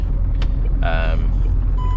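A brief electronic turning-warning beep from an HGV truck pulses once over a constant engine rumble, with a fainter tone following near the end.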